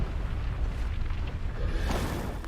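A secret missile blast in the Tekken 7 or 8 fighting game produces a continuous heavy rumbling explosion, loud and dense throughout, with a deep roar that never lets up.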